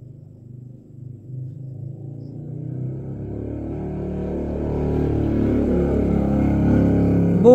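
Motorcycles roar past on a road, a faint rumble swelling into a loud, close, continuous engine drone with no one talking.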